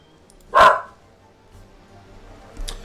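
A single sharp dog bark in the video game Divinity: Original Sin, loud and close, followed by a faint second yip near the end over quiet background.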